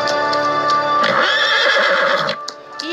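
A horse whinnies loudly for about a second, its harmonic neigh rising and falling, amid steady clip-clop hoofbeats and a higher chorus of neighing from nearby horses, with no talk over it.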